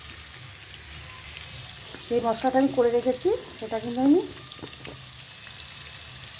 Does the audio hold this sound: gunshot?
no